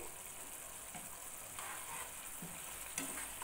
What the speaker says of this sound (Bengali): খুন্তি দিয়ে একটু মিক্স করে নিতে হবে।